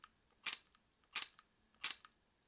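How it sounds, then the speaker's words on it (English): Three crisp camera shutter clicks, close and evenly spaced, each one a sharp double snap, with quiet in between. "the shutter sound"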